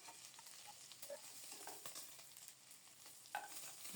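Egg pieces frying in hot mustard oil in a pan for egg curry, a steady crackling sizzle with scattered pops and occasional stirring, close and fairly quiet, with no talking.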